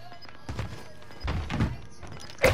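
A bomb is planted at site Bravo in the video game Modern Warfare, with a few dull thunks and thuds of the planting action and a sharper hit at the end, all fairly close.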